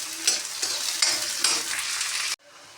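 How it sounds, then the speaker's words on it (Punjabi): Ginger, green chilies and onion roasting in a hot tadka for saag, with a steady bright sizzle broken by regular scraping stirs, close and loud, stopping abruptly near the end. "ਹੁਣ ਮਸਾਲੇ ਨੂੰ ਭੁੰਨਾਂਗੇ ਆਪਾਂ"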